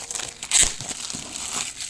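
Packaging of HUAWEI Eyewear 2 audio glasses crinkles during unboxing: close, crisp rustling and crackling with a sharp crunch near the middle, then lighter handling noises.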